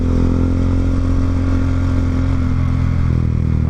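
A motorcycle engine runs loud and close with a steady, continuous drone and no gaps, as the rider speeds off and accelerates on a road under darkening skies before rain.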